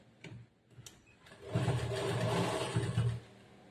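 A sewing machine stitching a semi-Patiala chudidar pant, with a few short clicks and brief bursts, then one sustained whirring run of about a second and a half, close and clear.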